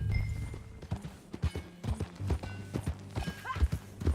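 Horse hooves clip-clop in Red Dead Redemption 2, a steady, fairly close rhythmic trot of sharp knocks, with an occasional soft snort and no talk over it.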